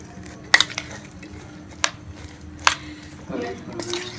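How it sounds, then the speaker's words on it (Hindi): Vegetable salad being mixed with salt and chaat masala in a bowl, with a few sharp clinks of a spoon against the dish and soft stirring and squishing sounds, fairly close and quiet. "ये आधी चम्मच हम चाट मसाले की डाल देंगे और इसको मिक्स कर देंगे"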